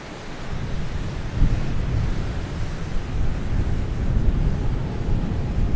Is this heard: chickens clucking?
no